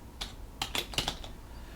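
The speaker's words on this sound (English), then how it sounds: "So I'm gonna Control find the word fix space keys, Eric." Someone types a short search phrase on a computer keyboard, several quick, crisp key clicks in an uneven cluster over a quiet room hum, with no talking.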